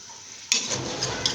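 Two large chopped onions sizzle steadily in a pan as the base for bhuna gosht, with a close scrape of stirring partway through and a continuous bright frying hiss.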